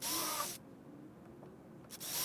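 A power drill drives screws into wooden runners during bench assembly, two loud whirring bursts at start and end with a quiet gap between.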